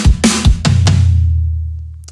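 A custom acoustic drum fill rolls through about five quick, punchy hits, then gives way to a long, booming low tail that slowly fades, with a faint metallic tick near the end.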